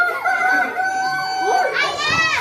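A rooster crows once, a long drawn-out call followed by a rising, strained ending, fairly close and clear.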